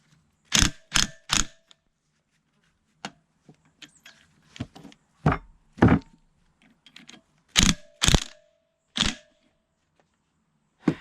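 Bolts are tightened on a hydraulic cylinder C-100 assembly, producing sharp, separate ratcheting bursts in short clusters with quiet gaps between them, close up and fairly loud.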